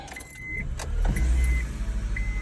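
A Honda hybrid car engine cranks and catches after a MaxxVolts battery repair, settling into a low rumbling idle, heard close with a faint jingle of keys at the start.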